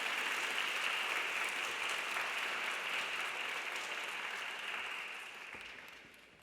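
Applause fills a Korean wedding hall during the ring exchange, a dense steady clapping from the gathered guests that holds for several seconds before gradually thinning and fading.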